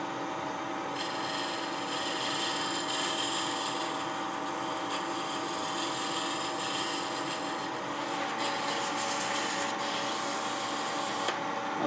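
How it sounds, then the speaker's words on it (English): A skew scraper shapes the profile of a wooden box on a lathe, a steady raspy scrape with a hissy rub that holds for several seconds and shifts a little as the cut moves. "it's easiest to do that with a skew or other negative rate scraper"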